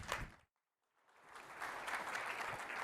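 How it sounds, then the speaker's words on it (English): An audience at a business conference in Sydney claps, a short burst that stops briefly and then swells into steady applause again. "Big round of applause."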